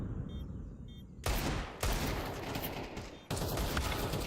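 Gunfire in Counter-Strike during an online tournament match, with Desert Eagle shots among dense overlapping bursts and rattles that cut in abruptly and keep going at high volume.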